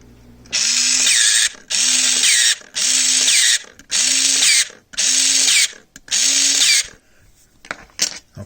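Nikon AW-1 autowinder motor running with its pins shorted: six even, loud whirring bursts with short pauses between them, close up, followed by a few faint clicks.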